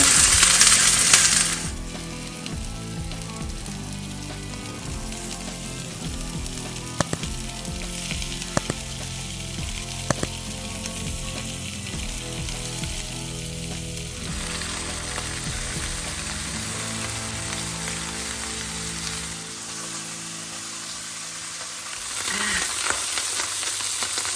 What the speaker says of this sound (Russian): Жарить буду на растительном масле со всех сторон.